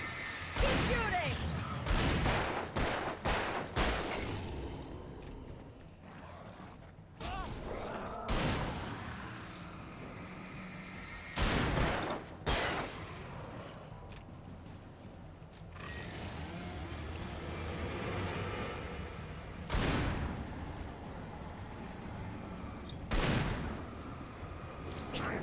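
Gunfire in the video game Alan Wake, a series of sharp, loud shots scattered over the clip, single and in quick pairs. It plays over rumbling game noise and mechanical creaks, with speech at times.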